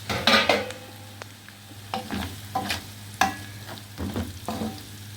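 Spices fry with onion and garlic in a pan for Egyptian ful, with a spoon stirring through repeated scraping and clanking strokes over a continuous close sizzle.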